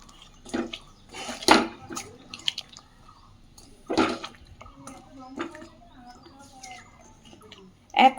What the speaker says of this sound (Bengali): খুব ভালোভাবে এবার মাছটাকে সমস্ত কিছু দিয়ে মেখে নেব।